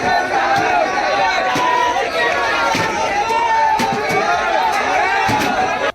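An angry crowd of protesters fills a street during communal violence, a dense, loud roar of shouting voices with sharp bangs and thuds scattered throughout.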